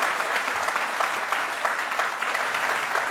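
Studio audience applause at a televised courtroom-style talk show, steady dense clapping held at full strength throughout, with no voices over it.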